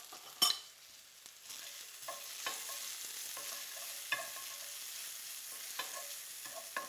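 Shallots sizzle gently in olive oil over moderate heat, a soft steady frying hiss with a few faint clicks and utensil taps, quiet and without speech.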